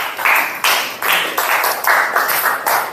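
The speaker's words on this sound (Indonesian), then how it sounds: "tepuk tangan untuk teman kita Nabi" A classroom of students claps for a classmate, a loud, brisk round of hand claps in quick rhythmic bursts, close and steady, with no talking over it.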